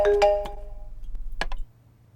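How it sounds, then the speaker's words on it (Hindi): A phone rings with a few bright, chiming electronic tones in quick bursts, first loud and then briefly again, fading to near silence at the end. "तुम्हारा फोन रिंग हो रहा है"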